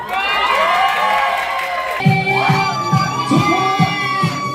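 A small crowd at a startup company's year-end party cheers loudly as a performance begins, high excited shouts and whoops overlapping in a lively, close din, with little distinct clapping.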